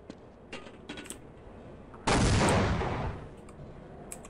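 A grenade detonates in Half-Life, one sudden loud blast that rolls and fades over about a second, set among faint clicks and gunfire-like taps of combat.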